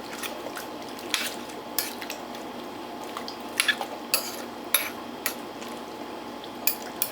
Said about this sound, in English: Let's give that a mix.